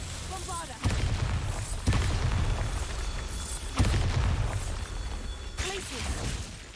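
Several heavy blasts of the Bombarda explosion spell in the Hogwarts Legacy video game, booming at close range in uneven succession over a busy game soundscape, with a voice calling out between the hits.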